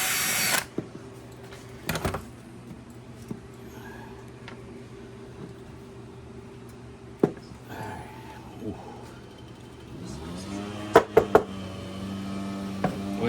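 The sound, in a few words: power drill removing screws from an old Snapper mower motor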